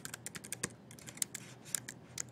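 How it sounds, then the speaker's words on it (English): Keys on a computer keyboard are tapped in quick irregular bursts of crisp clicks, close and fairly faint, with brief pauses between groups and no talking. "You can type your name"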